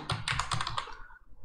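Rapid bursts of keystrokes on a computer keyboard while code is entered in an Angular 18 tutorial, close and fairly loud, clicking in quick irregular runs before trailing off near the end.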